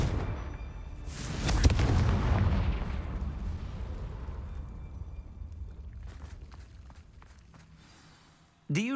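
A Confringo blasting spell goes off in Hogwarts Legacy, a loud burst that swells into a rumbling blast and slowly fades over several seconds. A brief sharp sound cuts in at the very end.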